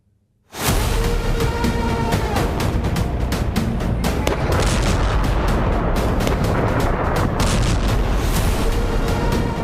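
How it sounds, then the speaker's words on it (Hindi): After a moment of quiet, a dense, continuous barrage of booms and blasts from drone and missile strikes on Kyiv erupts, loud and rolling, with sharp repeated impacts throughout. "कैपिटल कीव में ये धमाके"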